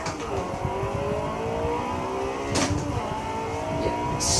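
A drift car in Forza Motorsport 6 holds a steady, loud engine drone with rising and falling revs, a sharp burst near the middle and another toward the end, with no one talking over it.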